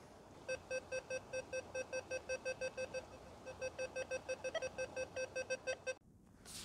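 An XP Deus II metal detector set to square audio gives a rapid, regular string of about twenty bright, buzzy beeps, close and clear, with a short gap in the middle, before stopping abruptly.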